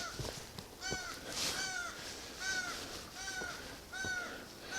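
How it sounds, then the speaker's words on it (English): Several crows caw harshly near their nest in rainy weather, repeated calls in rough bursts about once a second, moderately close and clear with no talk. "these crows are just having a"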